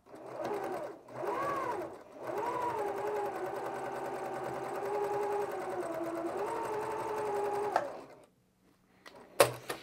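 A sewing machine stitches a quilt block seam, starting with two short bursts and then running in a long, steady whir that speeds up and slows before stopping, followed by faint clicks.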